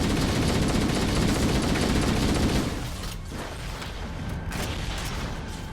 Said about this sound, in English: Sir, I need you to stop shooting that big green ball at me.